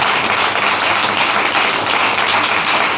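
Church congregation clapping hands together in praise, a dense, loud, steady patter of many hands filling the room with no talk over it.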